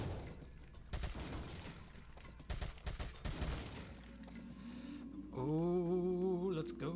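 Gunfire at shooting range targets in Resident Evil 4, a rapid run of sharp cracking shots and impacts over the first few seconds, then a sustained tonal, wavering game chime rising over a low hum.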